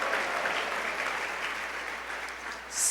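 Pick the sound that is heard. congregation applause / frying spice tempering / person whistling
congregation applause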